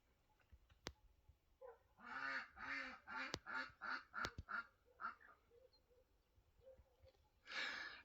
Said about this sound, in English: It's my ducks quacking.